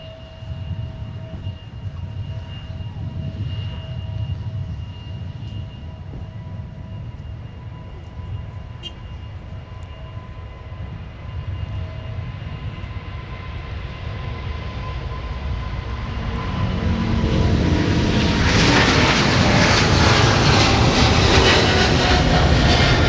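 KLM heavy jet airliner rolling for takeoff bound for Amsterdam at Minneapolis–Saint Paul airport, a distant low engine rumble that swells into a loud, broad roar toward the end.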